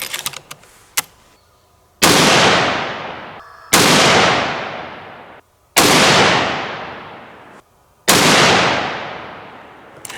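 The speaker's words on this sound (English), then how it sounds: "Still, this is some excellent shooting out of the 30-30." A .30-30 lever-action rifle shooting Hornady 150-grain round-nose handloads at an outdoor range fires four loud, sharp shots several seconds apart, each followed by a long decaying echo, with light clicks between them.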